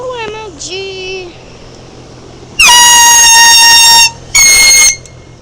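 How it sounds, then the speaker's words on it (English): Two loud, sustained blasts from a handheld air horn, the first about a second and a half and the second shorter after a brief gap, following a few faint voice sounds. "I hope you enjoyed this air horn."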